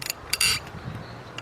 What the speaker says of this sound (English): With the ratchet first.